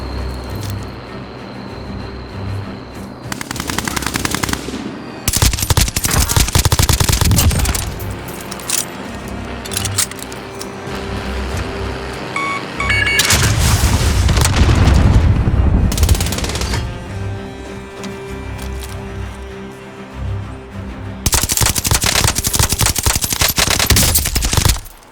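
Intense gunfire and airstrike explosions in the video game Warzone Plunder mode: loud bursts of automatic fire and booming blasts come in several heavy clusters separated by quieter stretches, with a brief tinkling of falling shell casings.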